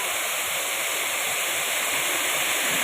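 Waterfall on a small stream running alongside a house compound, a steady, dense broadband rush of falling water, close and continuous with no other sounds.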